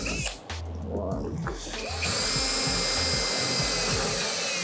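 A power drill with a small bit runs into a fiberglass boat hull, giving a loud continuous high whine that steadies and grows after a couple of seconds, with people talking under it.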